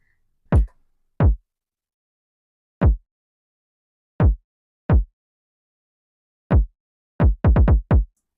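A kick drum sample triggered in FL Studio, punchy low thumps with sharp attacks and quick decays, struck singly at uneven gaps and then in a rapid burst of five near the end, loud and dry against silence.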